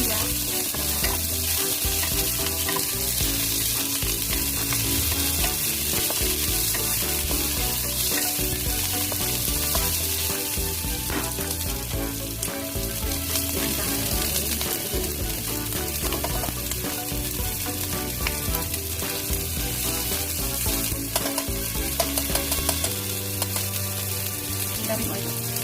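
Ginger and lemongrass frying in plenty of hot oil for Hainanese chicken, a loud, steady sizzle running throughout with stirring scrapes and clinks on top.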